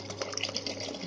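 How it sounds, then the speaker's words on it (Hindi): Water pours into a pan while aloo matar paneer curry is being cooked, a brief, steady splashing gush over a low hum. "हम इसके अंदर पानी डालेंगे"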